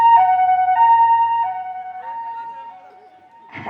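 An ambulance siren in a Tamil village stage drama at a festival, wailing loudly in a few long two-tone sweeps that fade near the end before a brief burst of noise.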